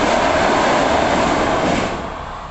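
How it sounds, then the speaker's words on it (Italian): A train crosses a bridge over a riverbed near Brancaleone in Calabria with a loud, sustained rumbling roar of wheels on rails that fades slightly at the end as it passes. "treno"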